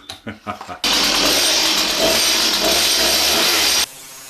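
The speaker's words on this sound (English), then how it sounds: "And we will begin with a chainsaw." A chainsaw roars to life after a few words of speech, running at a steady high pitch for about three seconds before cutting off abruptly, starting to carve a wooden fork into a slingshot.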